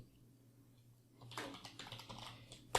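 Keys clatter on a computer keyboard while VBA code is typed, quiet at first and then a steady run of light, uneven clicks from about a third of the way in, with no talking.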